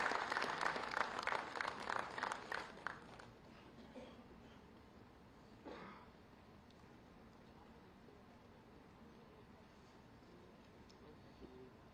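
An audience at an official project inauguration event in Jamnagar applauds to welcome the Chief Minister, a short burst of clapping that fades within a few seconds, leaving quiet room noise.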